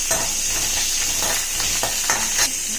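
Spices, green chili and garlic fry in oil in a kadai, giving a continuous close crackling sizzle with a few soft stirring scrapes, no voices.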